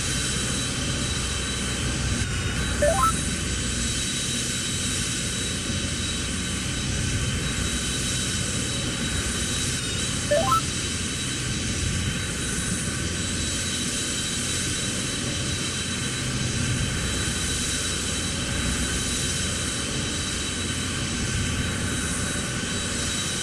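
A simulated aircraft engine drones steadily as the plane approaches runway 36 at Chamonix in a flight simulator, a continuous broadband roar with a faint tonal hum and two brief chirps over roughly twenty seconds, with no voices.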